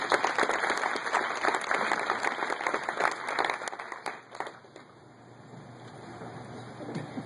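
Audience applause greets a speaker coming onto a stage, a dense burst of clapping that holds strong for about four seconds and then thins and fades to scattered claps.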